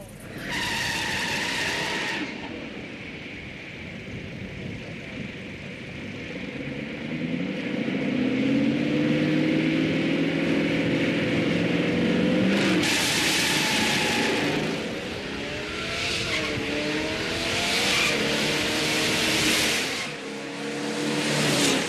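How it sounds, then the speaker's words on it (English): A muscle car launches hard off the line, engine revving loud and close as the tires spin and squeal, the roar rising and falling across a long run with a brief lull at the start and near the end. "Second time, I gave it a little too much RPM, spun the tires."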